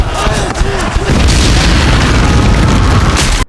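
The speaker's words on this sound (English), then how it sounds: "the loud noise of the shell explosion caused him to lose his hearing for a short time" Artillery shell explosion on a battlefield: a very loud, sustained boom and roaring blast that fills the whole stretch, with a brief crackling rumble before it and an abrupt cutoff at the end.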